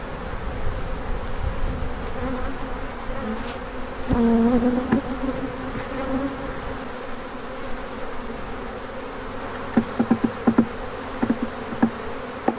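Bees buzz densely and steadily close by at a hive being split, a swarming hum with a few louder passes drifting near as bees are shaken off the top of a box.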